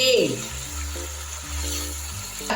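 Green chilies sizzle steadily in hot oil in a home kitchen pan, with a spoon stirring and scraping through them and a voice talking over the frying.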